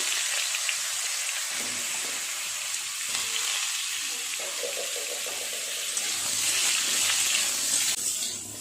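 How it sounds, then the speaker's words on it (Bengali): Mango pieces go into hot oil tempered with black mustard seeds for a thin chutney, producing a constant bright sizzle that swells slightly toward the end, heard alone without talk. "সর্ষেটা ভাজা হয়ে গেছে, আমগুলো দিয়ে দেবো।"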